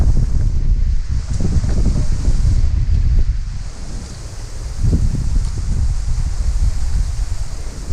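Strong wind gusting hard against the microphone, rumbling and buffeting in uneven surges with a brief lull near the middle.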